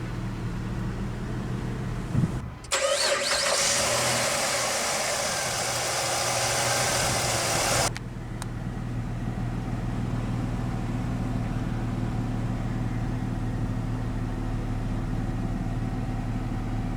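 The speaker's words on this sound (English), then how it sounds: "let's go ahead and start the engine" A 2006 Jeep Liberty Sport 3.7-litre V6 cranks and starts with a brief loud roar and high whine, then settles into a steady low idle rumble.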